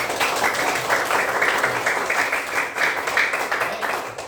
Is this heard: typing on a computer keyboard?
no